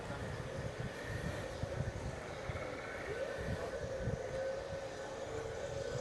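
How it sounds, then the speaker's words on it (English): Dense low rumbling buffets of wind hitting the microphone, steady and fairly loud throughout, with faint background noise of a busy outdoor place at Disney's Animal Kingdom. "Hear the wind, sorry guys, it's quite windy here,"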